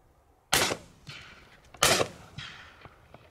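Shotgun blasts at a duck shoot, two sharp loud reports about a second and a half apart, each with a trailing echo and smaller pops between, no talking.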